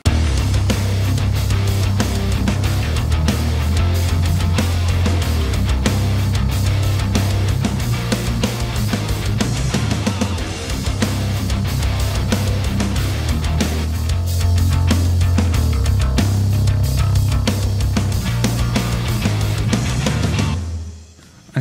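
A full rock song section plays dense and loud, with a driving bass line under Superior Drummer 3 drums and constant percussion throughout, ending in a sudden cutoff.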